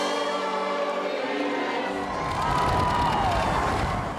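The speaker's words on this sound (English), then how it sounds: "a rapturous reception from the crowd outside the town hall" Outdoor crowd outside Accrington town hall gives a loud, rapturous cheer for Prince Philip, rising into dense shouting and applause-like noise partway through and staying full and close to the end.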